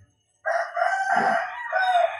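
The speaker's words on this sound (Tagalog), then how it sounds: "Pagpasensya nyo na maingay dito at mga manok kasi dito sa likodan." A rooster in a backyard at 5 AM crows loudly and close by, one long drawn-out call with no other sounds around it.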